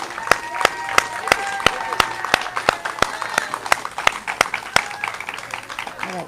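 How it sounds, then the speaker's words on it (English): A crowd at a school ribbon cutting event applauds students, with sharp rhythmic clapping close by standing out over a steady wash of clapping across the room for several seconds. "let's give these students a big round of applause"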